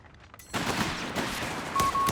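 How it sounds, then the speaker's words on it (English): MP40 submachine guns rattle in a rapid burst during a Company of Heroes 3 battle, a loud close volley of fire that begins after a brief quiet lead-in. "MP40's pop."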